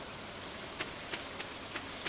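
Steady rain hissing down in Stardew Valley, a broad even wash of drops with a few brighter splatters scattered through it, heard alone with no music or voices.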